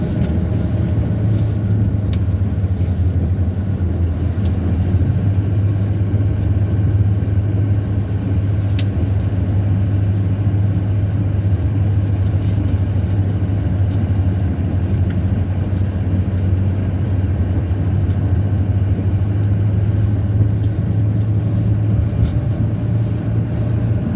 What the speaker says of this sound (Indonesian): Kendaraan lewat, teman-teman, karena ya masih sore.